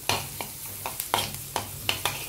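Garlic frying in melted butter in a pan gives a steady soft sizzle, broken by regular light scrapes and clicks of stirring every half second or so, heard up close.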